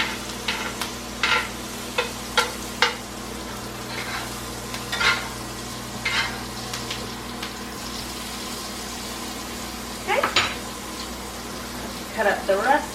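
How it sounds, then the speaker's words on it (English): Steak basting with garlic butter and fresh herbs in a hot pan, a steady sizzle broken by scattered spoon scrapes and splashy bursts of spooned butter, moderately close. "Let the garlic get all good in there. Baste away."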